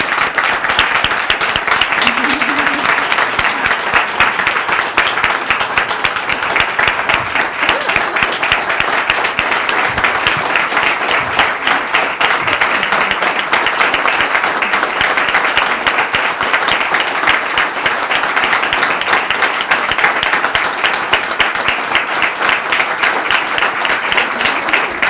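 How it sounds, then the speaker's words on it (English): An audience at a university council meeting gives President Kelley a long, sustained round of applause, with dense, even clapping that fills the room and continues unbroken throughout. "If we could have one final round of applause for President Kelley."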